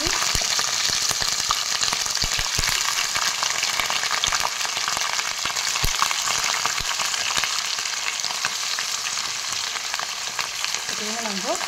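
Chicken meat and onions frying together in a pan for curry, giving a steady, loud, close sizzle that crackles continuously with no pauses and no talking.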